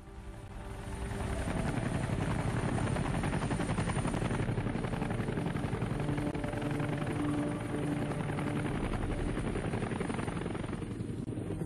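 Close, steady helicopter rotor and engine roar in a Vietnam War setting, loud and continuous after a quick swell in the first second, with a deep rhythmic thudding running throughout and no talk.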